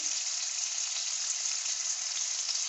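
Chicken frying with chili and turmeric makes a dense, even sizzle, bright and hissing and close up, that holds steady with no pauses and no talking.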